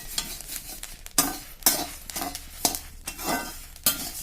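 Chillies and asafoetida fry in a pan with a faint sizzle while a spatula scrapes and stirs in a repeated, uneven rhythm.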